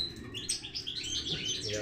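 Bright, rapid twittering from a European goldfinch, a series of quick high chirps and trills close by, with someone speaking softly in the background.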